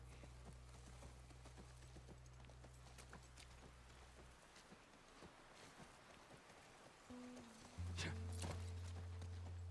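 Horse hooves clip-clop at a steady walking rhythm while riding in a video game, quiet and continuous under a soft ambient bed, with a low hum cutting in toward the end.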